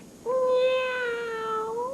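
Someone imitates a cat with a single drawn-out meow, a clear, tonal call that rises slightly at the end and holds for well over a second.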